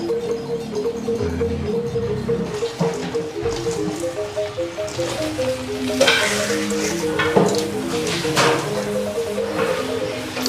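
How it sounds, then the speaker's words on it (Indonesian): Spice paste for Balinese lawar frying in hot oil at a market food stall, a loud, continuous sizzle with brighter crackling bursts that swell toward the end, as cooking clatter carries on alongside. "agak digoreng kering dikit"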